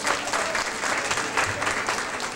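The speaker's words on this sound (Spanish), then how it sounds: "darle un fuerte aplauso, por favor" Audience applause at a training seminar, a dense, steady patter of clapping hands from a crowd, moderately loud and continuous for a couple of seconds.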